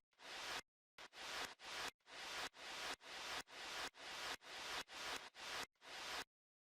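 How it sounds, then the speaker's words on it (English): White noise effect in FL Studio, played as a rhythmic series of about a dozen short full-range static bursts. The bursts are separated by abrupt silent gaps and end on a longer pause. "White noise."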